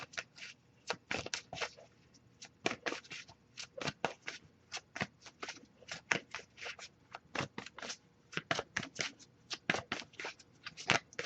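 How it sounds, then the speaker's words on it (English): Playing cards riffle and snap in repeated quick bursts, close up and steady throughout, with no voices. "I'll give a few more shuffles before we move on"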